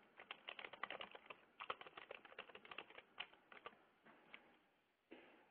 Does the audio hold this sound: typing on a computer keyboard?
yes